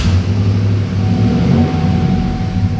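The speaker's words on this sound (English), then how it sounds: "Nice deep rumble, the way a truck should sound." Chevrolet Silverado pickup engine running up close, a steady deep, low rumble with a slight rev that holds evenly throughout.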